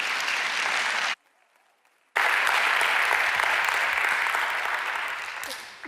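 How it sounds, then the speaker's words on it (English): An audience applauds a speaker after his introduction at a church event, with dense, steady clapping that cuts out for about a second, then returns as a full room of applause and slowly fades. "So let's give Dr. Steve a round of applause"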